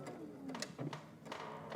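A sewing machine stitches along a puffer jacket seam, a soft steady whirring with a faint rhythmic patter, quiet and close, with no talking.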